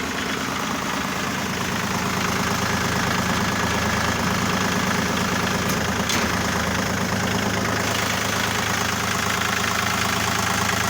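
A Kubota L1-245 diesel tractor engine idles close by, a steady loud knocking chug that holds an even rhythm throughout.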